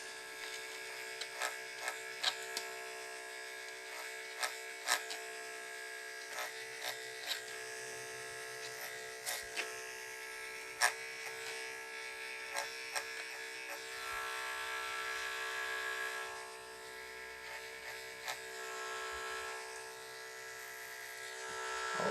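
Electric hair clippers cutting hair during a side-part fade haircut, a steady close buzz running throughout with frequent brief clicks and snips as the blade works through the hair, no talking.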